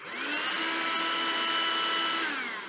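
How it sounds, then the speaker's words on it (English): A fairly quiet household vacuum cleaner runs indoors. It gives a steady, even hum with a thin whine on top, starting up and winding down at the edges, with no voices over it. "it is a fairly quiet vacuum"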